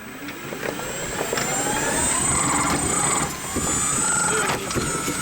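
A Polaris Ranger EV electric utility vehicle pulls away and drives with a steady broadband rumble and a rising whine, while a drivetrain shudder rattles through continuously at close range.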